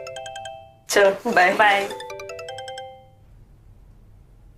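Mobile phone ringtone chiming in a repeating melodic pattern, clear and close, briefly interrupted by someone speaking before the tune ends and quiet follows.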